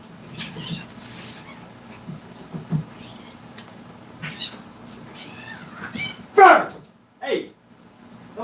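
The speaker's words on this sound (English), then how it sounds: "I had to yell at my cat because she was eating the crap out of one of the kittens" Household cat and her young kittens, with a couple of brief high meows and squeaky cries rising near the end over a quiet room, amid scattered small thumps and light rustling.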